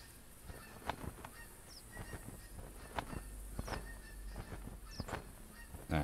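Geese honk repeatedly in the hunting game The Hunter Classic, sharp calls scattered irregularly over a noisy outdoor background, some near and some farther off, with no talk.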